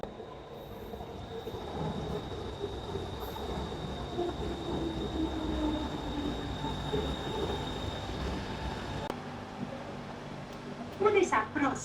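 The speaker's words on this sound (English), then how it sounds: "Here comes the train now." Steady rumble and rattle of a moving metro train heard from inside the carriage, with a brief louder clatter near the end and some talking.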